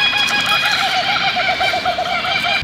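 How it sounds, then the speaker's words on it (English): A kookaburra's laughing call rings out loud and close, a long run of rapid, rolling hoots rising and falling continuously with no talk over it. "people don't get to hear the kookaburras or hear what a kookaburra sounds like"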